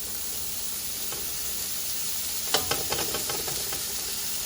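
Andouille sausage browns in a pan for shrimp and sausage gumbo, giving a steady close sizzle and hiss, with a cluster of scraping stir clicks about halfway through.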